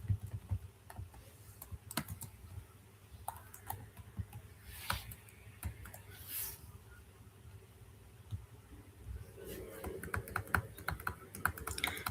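Steady typing on a computer keyboard while writing Python code, a long run of quiet, irregular key clicks with brief pauses and a few louder taps, close and faint, with no talking.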